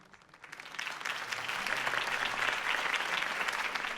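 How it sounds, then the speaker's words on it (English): Crowd applause in the Batman Telltale video game, rising after a campaign speech for Harvey Dent and holding as a dense, steady clapping roar from a large audience, with no talk over it. "could have heard that applause"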